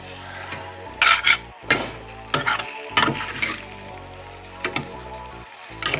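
A pan bottom being deglazed for a lasagna sauce, with a loud sizzle and bursts of scraping and stirring that come and go, close by and with no talk.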